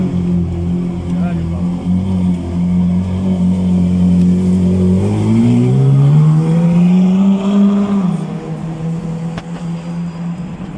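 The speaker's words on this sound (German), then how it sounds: "Der 458 fährt los." A Ferrari 458 pulls away on a city street, its engine rising in a long rev for several seconds, then settling. It is close and loud, with a voice speaking over it.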